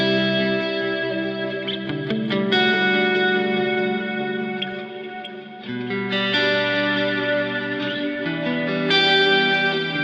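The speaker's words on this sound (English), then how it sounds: "Let's hear some delay with that." A synth or keyboard patch from a Logic preset played with delay, sustained chords and notes trailing into repeating echoes that smear together, fairly loud and continuous over about ten seconds, no talking.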